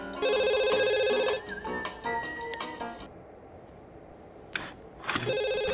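A telephone rings in The Sims 2 in bursts of electronic trilling, pausing through a quieter stretch with faint clicks before the ringing starts again, fairly loud and close.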